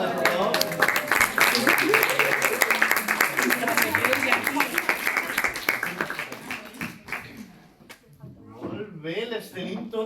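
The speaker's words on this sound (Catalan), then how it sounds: "un fort aplaudiment per la Carla" A crowd at the Vella Quaresma Lent celebration in Llinars del Vallès gives loud, dense applause for Carla as she shows a trophy. Steady clapping fills about seven seconds, mixed with voices and cheers, then fades into talk.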